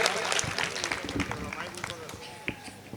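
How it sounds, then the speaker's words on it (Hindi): An audience claps for a young Hindi comic poet at a humorous poetry recital. The applause is a steady, moderately loud patter that runs through the whole stretch, with a voice talking over it. "मेरा निवेदन है कि एक बार आप जोरदार सब लोग तालियां बजा के उनका उत्साह बढ़ाएं"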